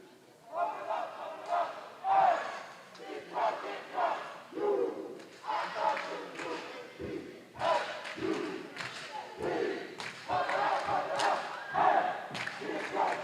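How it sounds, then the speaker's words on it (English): A home crowd at a women's college volleyball match, Delaware State Hornets against Coppin State, shouts and yells in rising and falling waves, with thuds and some talk mixed through the gym noise. "Hornet crowd"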